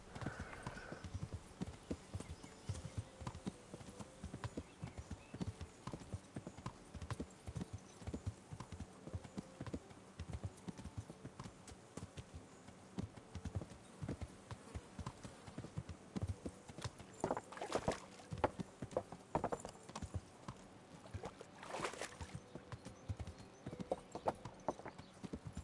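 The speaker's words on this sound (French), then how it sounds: "Je descends de la montagne à cheval." Horse hooves clip-clop steadily down a mountain path in the video game Kingdom Come: Deliverance, an even, continuous rhythm of soft hoofbeats at low volume throughout.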